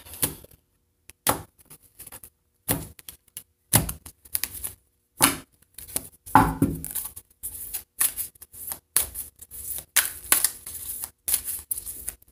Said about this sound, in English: Let me cut the deck.